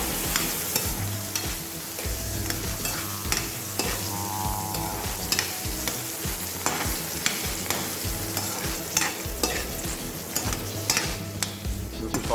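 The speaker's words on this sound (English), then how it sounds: "Saute in the oil." Food sautés in oil in a pan for Baghaar-e-Baingan, a continuous close sizzle broken by frequent sharp clinks and scrapes of a stirring utensil, busy and uneven throughout.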